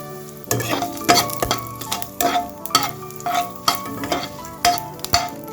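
Panch phoron and dry red chillies sizzle in hot oil for Assamese arhar dal, a close crackling hiss punctuated by regular scraping and clanking strokes of a spoon stirring in the pan.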